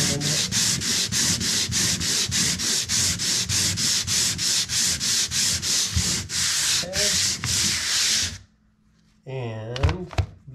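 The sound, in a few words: lightly sanding around a coax wall box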